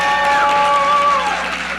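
Conference audience at a non-profit symposium rising to cheer, a brief, loud burst of mixed cheering and clapping that fades within about two seconds.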